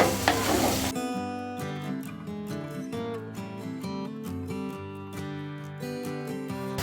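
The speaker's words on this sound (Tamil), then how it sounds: "எல்லாத்தையும் சேர்த்து நல்லா இதை கலந்துக்கலாம்." A beans poriyal stir-fry is stirred in a pan. Close scraping strokes mix with a soft sizzle behind a steady tonal background.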